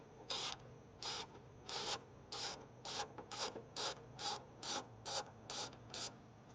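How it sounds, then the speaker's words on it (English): A Torx T10 driver backs out two screws during an amber grille light install on a fifth-generation Chevrolet Tahoe or Suburban, giving about a dozen quick, even ratcheting clicks, close and fairly quiet, with no talking. "So I'm just going to remove these 2 screws right here."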